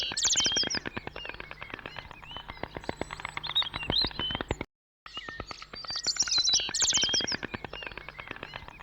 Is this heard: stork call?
yes